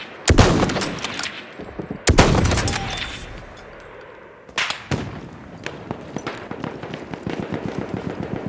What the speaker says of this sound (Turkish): makinalı tüfek. Düşman!